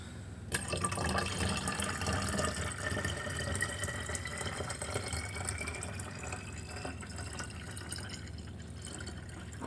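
Water runs steadily from a tap into a container for a homemade linen spray, a continuous watery rush with faint drips, close and moderately quiet throughout, with no talking.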